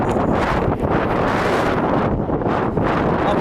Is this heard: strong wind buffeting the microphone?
yes